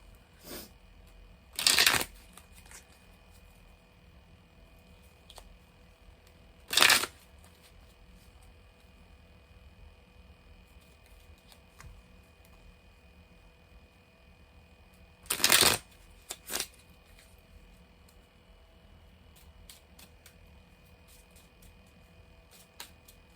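Quick riffling tarot card shuffles in three short bursts, the last one doubled, with quiet stretches between them in a still room.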